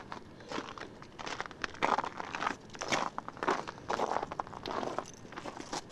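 Footsteps crunch over ice on an icy New Year's Day morning beside a 2000 Chevy Malibu LS, giving irregular, close, crackling crunches with short pauses between steps and no speech.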